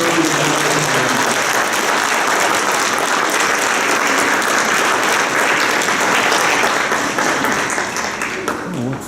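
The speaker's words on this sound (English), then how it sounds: "Let's give them a nice round of applause." Dense, loud audience applause at an evening ceremony, continuous clapping from a large standing crowd that holds steady for about nine seconds before starting to thin.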